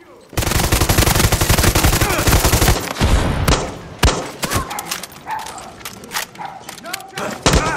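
Rapid automatic gunfire rattles loudly in a dense burst in the Far Cry 6 video game, then gives way to scattered single shots and thuds, with someone talking over the later part.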